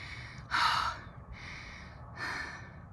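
Heavy, labored breaths from someone hiking up a steep mountain, close to the microphone, with two loud gasping inhales and a softer breath between them over a quiet background.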